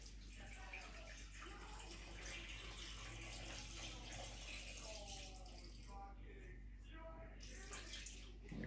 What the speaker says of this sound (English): we're going to add in hot water.